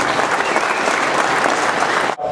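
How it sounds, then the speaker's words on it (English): Loud, dense applause from an audience at a Sportsmen Day gathering, sustained and close for about two seconds before cutting off abruptly into near silence. "a round of applause right now."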